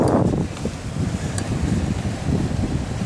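Strong wind roars steadily across the microphone aboard a sailboat making good speed near Pancake Creek in the Whitsundays, a loud, unbroken rush of buffeting noise with no voices.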